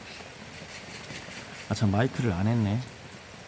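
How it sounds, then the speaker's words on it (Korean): Rain falling outside during an indoor recording, a steady, soft hiss of drops throughout, with someone speaking briefly over it partway through. "빗소리랑 같이 이렇게 녹음되면 좋으니까"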